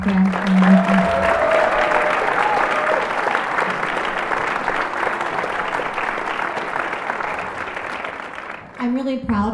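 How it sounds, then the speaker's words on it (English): An audience at a high school spring concert applauds in a sustained, loud burst of clapping that fades toward the end, with a brief voice just after it stops. "a quick round of applause for Mr. Santone"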